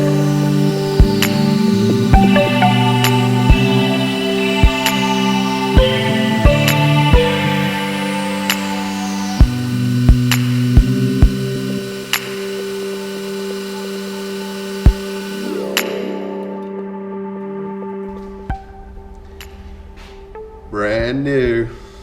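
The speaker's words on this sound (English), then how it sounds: "Start with a smaller drill and then work up to my final size for putting the tap in." Metal drilling of a pilot hole before tapping, part of machining a short shifter for a Dodge Viper: a steady machine hum with tonal whine and repeated sharp clicks and knocks, ending with quieter scraping and handling noises.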